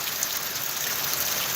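Steady rain falls outdoors, a dense even hiss of drops pattering on surfaces nearby, with no voices.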